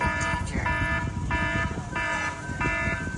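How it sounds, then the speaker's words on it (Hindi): The GPS anti-tamper danger alarm on a Toyota Urban Cruiser Hyryder sounds as a repeating electronic beep, four or five evenly spaced tonal pulses at a steady rhythm over a constant background hum. "अलार्म बजने लगा, डेंजर का अलार्म स्टार्ट"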